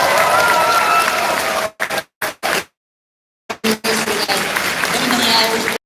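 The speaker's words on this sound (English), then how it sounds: "let's give another round of applause for Cole and his amazing leadership." An audience applauding for Cole at a town closing ceremony, a dense wash of clapping that cuts in and out with brief silent gaps.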